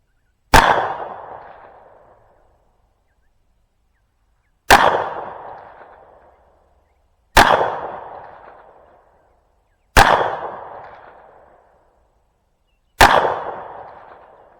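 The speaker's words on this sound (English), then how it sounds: "I'm going to shoot the orange target on the right shoulder" Five loud, sharp gunshots fired at a shooting target, each a single crack with a short decaying tail, spaced about two to four seconds apart with silence between, no talking.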